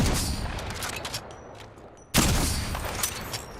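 Rapid video game gunfire during a shooter match crackles in dense bursts, dropping briefly to a quieter lull before a loud burst of shots resumes close up.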